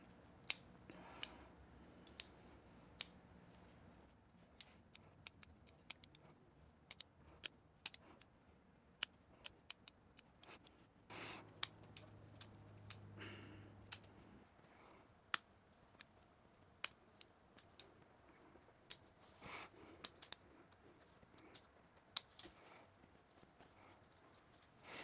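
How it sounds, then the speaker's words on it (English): Pruning shears make sharp, sparse snips while long shoots are trimmed on a Chinese elm bonsai. The cuts come close and quiet at irregular intervals, with faint handling noise between them and no talk. "So I'll just trim a few of the long shoots here."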